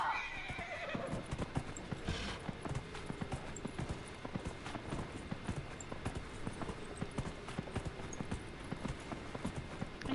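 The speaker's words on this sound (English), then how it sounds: "Horse! Come to me." A horse in the video game Dragon Age: Inquisition whinnies loudly at the start, then its hooves clip-clop in a quick, steady trot that continues throughout, close and clear.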